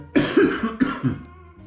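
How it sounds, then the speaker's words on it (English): A person coughs several times in a quick, rough burst, two clusters of harsh hacking coughs close to the microphone, with no talking. "still got my cough"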